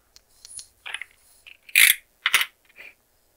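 A few sharp metallic snips and clicks as brushless motor wire leads are trimmed, isolated cuts spaced across a quiet background, close and crisp.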